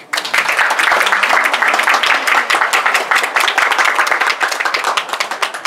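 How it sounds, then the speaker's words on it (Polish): A crowd claps loudly and steadily at an equestrian show jumping competition, a thick, fast rain of overlapping hand claps lasting the whole stretch with hardly any letup. "Szanowni Państwo, mimo wszystko wielkie brawa."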